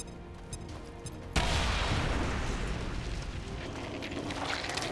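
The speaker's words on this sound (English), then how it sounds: "Grenade out." Grenade explosion in XCOM 2 erupts suddenly after a quiet moment, a loud boom followed by a long, rumbling decay.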